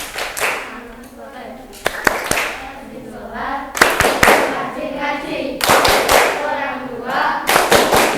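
A classroom of schoolchildren performs a rhythmic clapping chant, with sharp bursts of group claps in a patterned beat alternating with stretches of children's voices chanting together.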